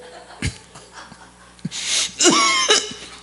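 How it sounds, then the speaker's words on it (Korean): A person coughs in several harsh bursts with gasping breaths between them, close and fairly loud, in a sermon setting. "아니 기침을 왜 갑자기 그때 해?"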